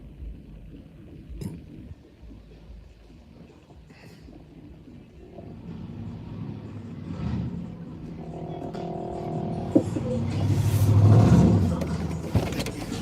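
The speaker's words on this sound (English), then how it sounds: "There goes your truck." A truck drives off, its engine swelling and revving louder over several seconds before fading slightly, with people talking faintly beneath it.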